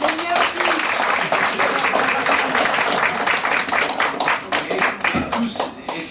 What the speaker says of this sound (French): Je voudrais qu'on l'applaudisse très fort